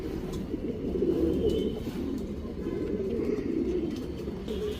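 Guldhar and Kathang breed pigeons, a Guldhar male and a Kathang female, coo in soft, low, continuous murmurs close by, with faint chirps above.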